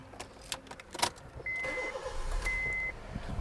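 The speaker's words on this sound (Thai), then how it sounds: "รถเครื่องยนต์สตาร์ทแล้ว" A 2011 Honda Jazz 1.5 V starts up after a few clicks and jingling keys: the engine cranks, catches, and then settles into a steady, moderately quiet idle close by.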